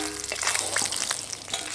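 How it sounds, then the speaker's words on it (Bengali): Magur catfish frying in hot oil, a dense crackling sizzle with scattered pops and a faint stirring scrape, close and steady throughout. "হালকা করে ভেজে নিয়েছি, এবার তুলে নেব।"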